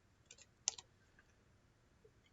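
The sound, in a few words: typing numbers on a computer keyboard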